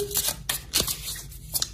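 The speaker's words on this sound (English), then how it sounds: "let's jump into the reading and give the cards a good shuffle" Tarot cards shuffled by hand in a few quick, soft riffling bursts, close and fairly quiet, with no talking.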